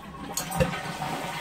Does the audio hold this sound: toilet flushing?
yes